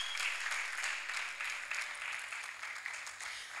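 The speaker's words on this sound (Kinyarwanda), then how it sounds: "Komera Imana yawe amashyi menshi" Congregation at a prayer-week church service applauding God, a fairly quiet, continuous clatter of many hands with slight swells, faint background hum beneath.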